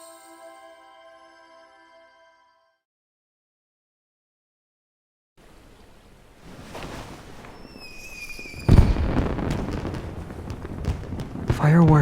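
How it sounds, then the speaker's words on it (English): Fireworks in the romance video game Love and Deepspace crackle and pop after a quiet stretch, bursts building louder with a sharp boom near the end, over a soft game score. "Fireworks are beautiful,"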